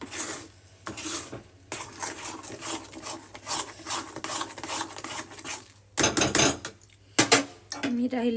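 Moong dal halwa stirred continuously in a kadhai with oil, a close scraping and rasping of the spoon against the pan in uneven strokes, with a few sharper metallic clanks near the end and no talking.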